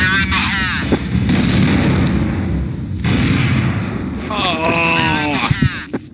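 Gunfire in Counter-Strike: Source, with loud, close weapon shots and thumping blasts sounding repeatedly while players talk over the game action.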